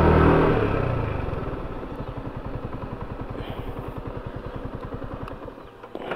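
A car engine labours steadily while climbing a hill road up to a mountain summit, a rhythmic mid-pitched drone with close, constant clatter and no speech.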